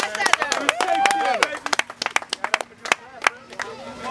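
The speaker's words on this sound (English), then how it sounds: "A round of applause for our Navy," At an outdoor pull-up jam event, a crowd claps in sharp, scattered bursts that gradually thin out, while people talk and shout over it.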